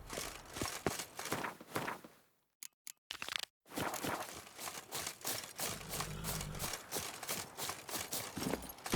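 Horse hooves clip-clop steadily on the ground in The Witcher 3: Wild Hunt, a close, even rhythm broken by a brief pause before resuming alongside faint low rumbling.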